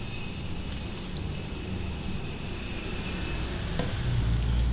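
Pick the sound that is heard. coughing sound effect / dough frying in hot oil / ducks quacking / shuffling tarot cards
dough frying in hot oil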